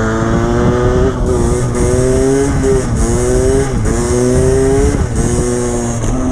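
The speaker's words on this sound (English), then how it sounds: "I gave throttle, so I come up onto the balance point, and I brake a little bit, so I slow down." A stock Derbi Senda 50cc motorbike revs hard through a wheelie, its two-stroke engine rising and dipping in pitch with throttle changes and short braking dips, loud and close throughout with no talking.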